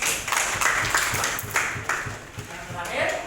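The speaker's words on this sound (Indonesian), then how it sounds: "itu tepuk tangan untuk kita semua" Fourth-grade primary school pupils clap together in a quick, rhythmic pattern in a classroom, with voices talking over the claps.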